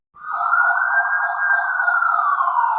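A police car siren wails loudly and close, one sustained rising-and-falling tone that starts sharply after a moment of silence, with no voices.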